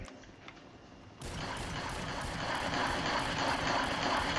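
A fully automatic shotgun in modded GTA V emptying ten shells in a continuous roaring burst that starts abruptly after a quiet moment and stays loud and dense to the end.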